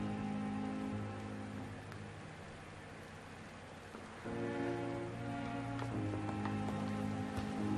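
Steady rainfall in the game Vampyr, a soft continuous patter laid over low sustained tones, quiet and unbroken throughout.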